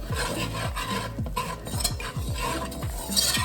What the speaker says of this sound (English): you're gonna whisk it up. Whisk it up.